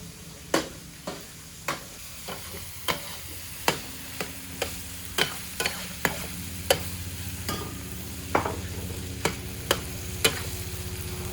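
Chorizo and chistorra sizzle in a paella pan under a steady frying hiss, with regular sharp scraping clicks from stirring about once a second, close and fairly loud.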